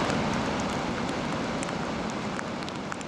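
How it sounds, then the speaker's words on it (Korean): Steady rain falls in the Himalayas of Nepal near Annapurna during the monsoon, a constant, moderately loud wash of hiss with scattered faint drop ticks and no speech. "근데 이렇게 지금 비가 오네요."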